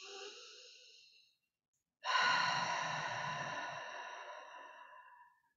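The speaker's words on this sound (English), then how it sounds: "just breathe" Deep breathing during a guided meditation: one long soft exhale that fades to silence, then a fuller, louder breath that tapers slowly away, close and breathy with no talk.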